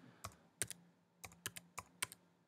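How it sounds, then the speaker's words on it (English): Typing on a MacBook or iMac keyboard, soft key clicks in short bursts with uneven pauses, close and quiet, no voices. "Now I'm going to start typing out my August stock take document."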